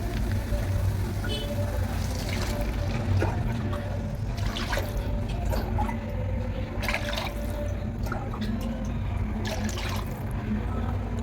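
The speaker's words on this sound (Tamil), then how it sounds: "நான் நாலு கிளாஸ் தண்ணி ஊற்றிக்கிறேன்" Four glasses of water pour steadily into a pan for semiya upma in a continuous trickling, splashing stream, close by, with faint clinks over a low background hum.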